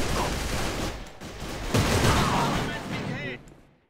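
Rapid gunfire from an MP38 in the online shooter AVA: dense, continuous automatic shots that stay loud and close for several seconds before tapering off at the end.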